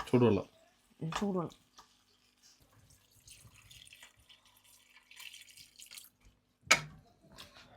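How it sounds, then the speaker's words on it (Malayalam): Water poured into a pot while cooking a Chinese-style dish of thin meat pieces at home: a soft, low trickle runs between short bursts of nearby speech. "വെള്ളം ഒഴിക്കണം"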